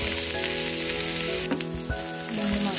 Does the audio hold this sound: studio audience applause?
no